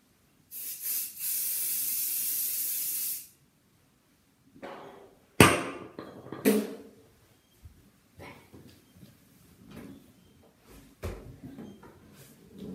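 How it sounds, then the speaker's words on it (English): Aerosol hairspray sprayed onto a boy's hair during school hair styling, one long steady hiss of about two seconds, close and fairly loud, followed by rustling and handling noises with no talk. "So I'll just spray it right now."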